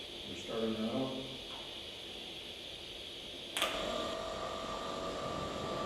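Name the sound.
HUAHENG TOA50 orbital open weld head machine starting up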